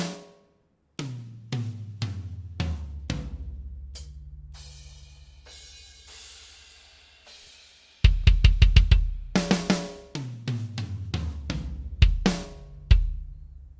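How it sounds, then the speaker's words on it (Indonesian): Sharp sampled snare drum hits in FL Studio played one after another, each crack ringing briefly, with pauses and then faster bursts of strikes, clear and close with no talking. "Ini suara snare."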